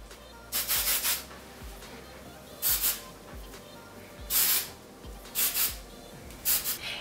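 A hand-held can of hair fixative spray mists naturally curly hair. Five or six short, hissing bursts come close by, with quiet pauses between them.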